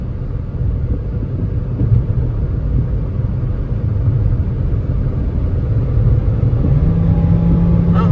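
Pontiac Vibe at roughly half throttle while driving, a steady low engine drone and road rumble heard from inside the cabin, gradually building in pitch near the end.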